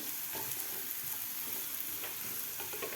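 Coriander powder and red chili powder sautéing in hot oil in a pan, a steady hiss of frying with faint stirring scrapes, continuous and quiet throughout.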